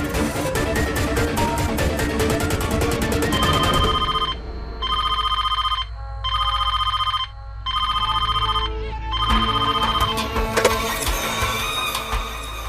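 Ringback tone of a telephone call placed to a home line in an Indian TV drama: repeated double rings in steady bursts, heard alone and fairly loud after a stretch of music.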